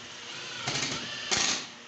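A drill bit bores into a wooden drawer joint, two short bursts of whirring and grinding over a steady background hum, close and fairly loud, with no talking.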